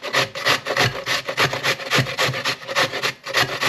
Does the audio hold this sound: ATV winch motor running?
no